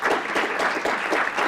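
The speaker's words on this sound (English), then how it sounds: "If we can give another round of applause." An audience applauds steadily after the papers of a European history panel at a history conference, a dense, even wash of many hands clapping with no pauses and no talk.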